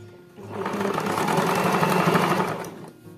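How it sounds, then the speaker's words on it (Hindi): Sewing machine stitching fabric strips meant for trouser hems, a loud close steady mechanical whir that rises in, runs for about two seconds and fades, with no talking over it. "तो देखिए मैं इसको सिलाई लगा रही हूँ"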